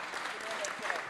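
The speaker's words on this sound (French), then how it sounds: "On peut applaudir Madame la Ministre également." Conference audience applauding the minister, a short burst of dense clapping from a seated crowd with voices mixed in.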